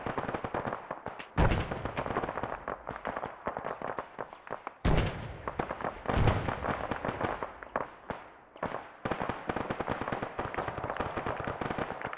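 Grenade blasts and gunfire in an Arma 3 squad training battle: repeated sharp bursts of shots with several heavier booming impacts, loud and close, continuing throughout.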